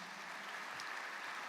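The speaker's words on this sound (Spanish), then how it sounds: "Damos un fuerte aplauso al Señor Jesús." A church congregation claps in a steady, even wash of applause that holds at one level throughout, fairly soft and distant, with no voices standing out.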